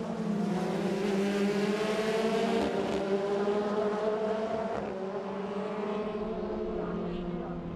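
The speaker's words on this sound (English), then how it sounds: "Meanwhile, Daniil Kvyat in car number 3 overtakes Guilherme Silva for 5th place." Formula Renault 2.0 race cars lapping the Nürburgring, a continuous high-pitched engine whine with shifting pitch as cars pass and overtake, heard at moderate distance under race commentary.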